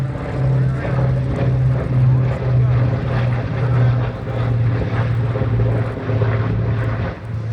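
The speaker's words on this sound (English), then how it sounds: "coincidentally a B-29 was flying over right around the same time." A Boeing B-29 bomber flies over at a large airshow, its piston propeller engines a loud, steady drone with a pulsing low hum across several seconds, while people talk faintly.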